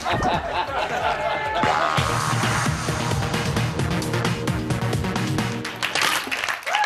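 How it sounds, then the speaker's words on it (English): A studio audience at a children's Big Brother spin-off show applauds after a news segment: broad, busy clapping mixed with chatter and some laughter, swelling and continuing for several seconds with voices heard underneath. "loads of big applause for Jenny reading the news"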